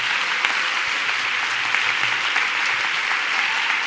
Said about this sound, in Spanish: Podéis aplaudir un poquillo, venga, va.